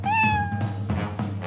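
A cat gives one clear, drawn-out meow close by, followed by a few soft thumps and rustles in an otherwise quiet room.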